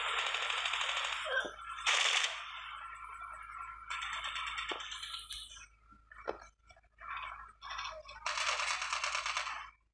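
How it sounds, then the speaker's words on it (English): Bursts of rapid gunfire in COD Mobile crackle in short volleys, separated by brief pauses, with sharp single shots in between. "Gunshot!"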